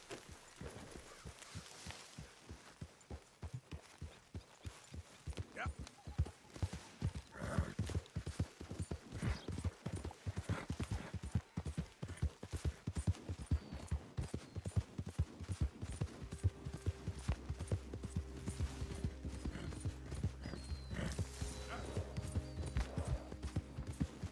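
Horse hooves clip-clop steadily in Red Dead Redemption 2, a rapid regular gait that grows louder and denser partway through, with a low droning rumble building beneath in the later stretch.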